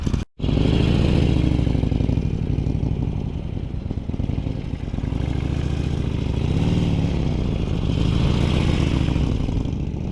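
A motorcycle idles and creeps forward in a slow-speed riding drill with light brake pressure, its engine a loud, steady close-up rumble with small rises and falls in pitch throughout.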